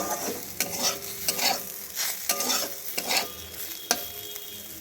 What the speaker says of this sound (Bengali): এইভাবে একটু ভালো করে নাড়াচাড়া করে পুরো বেগুনটার সঙ্গে মিশিয়ে নেব